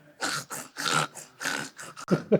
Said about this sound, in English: It's called an inverted sneeze or an inverted cough.